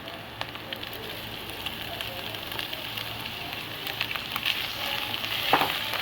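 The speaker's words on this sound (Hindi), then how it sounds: "अब हम इनको प्याज़ों के साथ अच्छी तरह से फ्राई करेंगे" Minced meat fries with onions in a pan, making a continuous close crackling sizzle with scattered pops that grows slightly louder toward the end.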